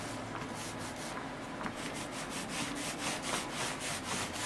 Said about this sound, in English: Rolling it on gets it into all those little grooves and creases and stuff